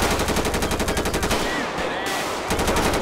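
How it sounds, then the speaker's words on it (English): Rapid automatic fire from a big gun in GTA 5, dense fast bursts rattling loudly, pausing briefly near the middle before resuming, with no speech over it. "All right, I'm picking up my big gun now"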